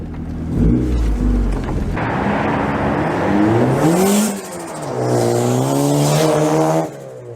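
A turbocharged Honda Prelude H22 engine, running a stock tune with a little extra fuel on a 1.75 bar map, revs loudly up and down nearby in two rising-and-falling bursts before settling back toward idle.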